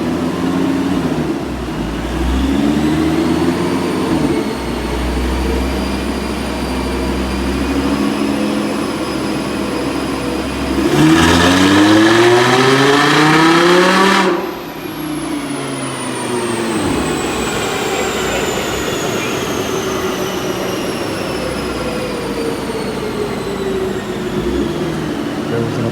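An Audi R8 engine pulls hard on a chassis dyno, a loud, steady mechanical drone with rising rev sweeps, a sharp high-rpm climb midway, then a sudden cut and a lower sustained run. No voices.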